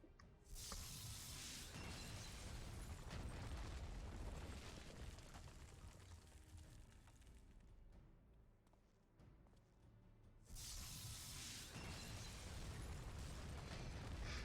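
Deep rumbling explosions with crackling debris in Final Fantasy XIV's Crystal Tower, a sustained roar that dips briefly before another blast bursts in, loud and continuous.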